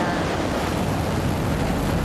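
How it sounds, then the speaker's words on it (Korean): The Nuri rocket's engines roar at liftoff during its third launch at the Naro Space Center, a dense, steady, wind-like rumble heard from a distance, loud and unbroken. "우렁찬 엔진 소리와 함께 힘차게 출발한 누리호"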